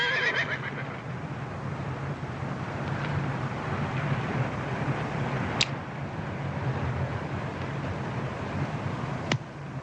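A horse neighs loudly at the start, followed by a steady windy outdoor backdrop with a couple of faint sharp clicks, in a 1971 Western film scene.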